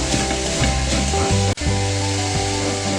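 Chicken curry masala sautés in a pan with a close, steady sizzle and occasional spatula scrapes, one sharp knock partway through, and no voices.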